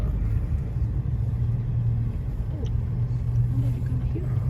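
A steady low engine and road rumble fills the inside of a car stuck in traffic during an exit from Ukraine, constant and fairly loud, with faint voices underneath.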